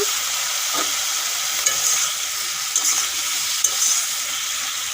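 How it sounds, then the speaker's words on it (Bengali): Potato and cauliflower fry in a pan with salt and turmeric, giving a steady close sizzle with a few soft stirring scrapes and no voices. "সামান্য নুন আর হলুদ দিয়ে ভেজে নেব"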